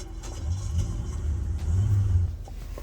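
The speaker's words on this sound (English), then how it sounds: "Enough of those car sounds." A car engine rumbles nearby, with a low, steady drone that swells twice as if revving or accelerating, and no talk over it.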